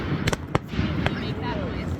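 Several sharp firework bursts crack out in quick succession near the start, then another single bang, over a steady crowd murmur at a holiday fireworks show.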